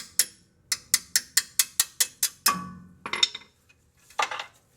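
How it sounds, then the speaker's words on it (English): A quick run of ringing metal-on-metal hammer taps, evenly spaced, followed by a scraping clank and a couple of scattered knocks nearby, during work on a Mopar transmission. "That's what the hammer is all about."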